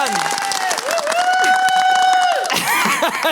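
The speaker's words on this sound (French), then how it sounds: "est-ce qu'on peut applaudir bien fort ça, Amigan?" A French late-night talk-show studio audience applauds loudly in a dense, steady wash of clapping with some cheering, while a sustained voice rises over it before fading near the end.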